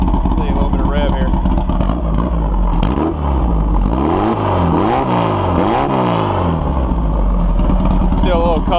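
A pit bike fitted with a Volkswagen stinger exhaust and no baffle runs loud and close, idling roughly before a series of rising and falling revs in the middle.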